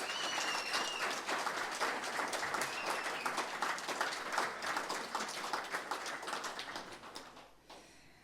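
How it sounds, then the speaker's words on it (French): Church congregation applauding at the close of a worship service, a sustained dense wash of clapping from many hands that fades out in the final second. "je propose qu'on puisse les applaudir pour exprimer notre reconnaissance"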